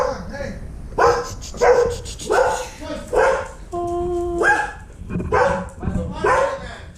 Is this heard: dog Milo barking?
yes